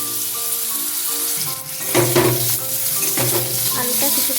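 Potato sticks hit hot oil seasoned with a dried red chilli and five-spice in a pan, setting off a steady, fairly loud sizzle with crackling bursts, likely with some stirring.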